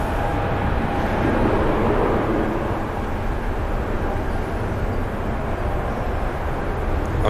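A Pegasus airliner departing Manchester Airport for Istanbul: a steady, broad jet roar that holds at a loud level throughout, with no talk.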